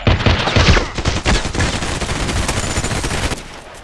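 SKS carbine fire in the Contract Wars shooter game, a quick run of loud close shots that blurs into continuous gunfire and then cuts off abruptly.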